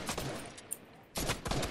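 Rapid SMG gunfire bursts in the video game Fortnite crackle in two quick volleys separated by a brief pause, loud and close with no talking over them.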